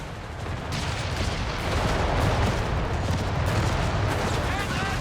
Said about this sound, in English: Just firing a couple of shots.